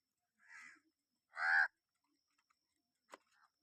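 Egrets and storks in a forest give a few short, harsh honking calls, two close together and a fainter one later, quiet and spaced apart against near silence.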